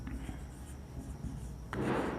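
Chalk or marker scraping across a classroom board during a Hindi-language biology lecture on reproduction, a steady scratchy rubbing that grows louder and denser toward the end, heard alone without talk.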